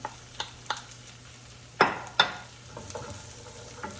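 Half a yellow onion fried with garlic in a hot pan, stirred with a few sharp clatters and scrapes over a low, steady sizzle.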